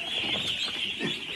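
Ducks in a farm pen give off a dense, continuous chatter of many birds, steady and fairly close, with no talking over it.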